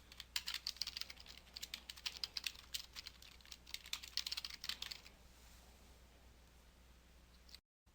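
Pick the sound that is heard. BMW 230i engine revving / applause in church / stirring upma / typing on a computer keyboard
typing on a computer keyboard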